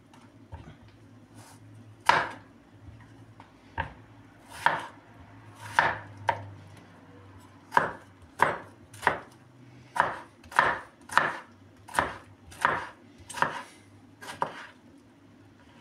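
Tomatoes are chopped on a board, sharp single knife strikes that start sparse and settle into a steady, evenly spaced rhythm, close and clear with no talking.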